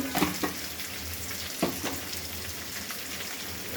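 Dried red chillies frying in a pan with salt, a steady crackling sizzle with a few sharper pops and stirring scrapes, close and alone without talk.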